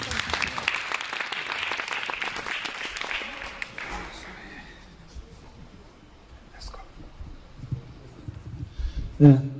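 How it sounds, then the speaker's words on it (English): Audience applause from a seated crowd after a talk, loud and dense for about four seconds before fading to scattered claps, with some murmuring and a voice near the end. "I want to give you another hand of applause."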